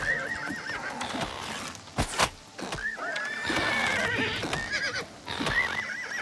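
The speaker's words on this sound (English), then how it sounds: "Horse, you in the way." A horse in Elder Scrolls IV: Oblivion Remastered whinnies repeatedly in loud, wavering neighs, with sharp hoof clops and thuds mixed between the calls.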